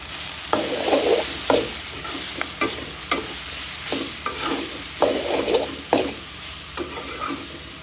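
Dried loitta fish sizzles lightly with spices in a pan, stirred in steady rhythmic scrapes about every half second over a continuous close frying hiss, with no voices.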